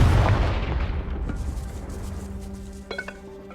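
A Confringo fire-spell explosion from the game Hogwarts Legacy: a loud, deep boom at the start that rolls away over several seconds, with faint rumbling and a few small crackles after it.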